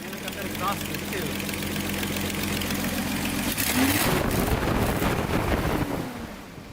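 A Datsun 280Z with an aftermarket exhaust kit idles with a steady, low rumble, buffeted by wind noise outdoors, and a brief rising tone partway through as the engine note shifts.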